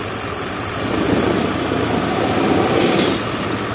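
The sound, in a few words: Honda Beat FI scooter engine revving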